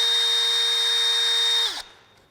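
Craftsman CMCD731 brushless hammer drill running at a steady high whine, then winding down and stopping near the end, close and loud with no talk.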